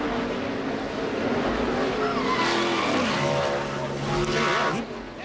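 A NASCAR stock car spins in turn three and slams hard into the wall, a loud sustained roar of engines with long tire squeal and skidding that rises, peaks, then drops off abruptly at the end, with no talk.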